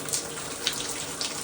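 Warm water streams steadily from an indoor shower while a military macaw is bathed, a soft continuous hiss and patter with no voices.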